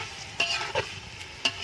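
Onion with ginger-garlic paste sautéing in a pan, a low sizzle punctuated by several bright scraping stirs of a spoon against the metal, close and uninterrupted by voices.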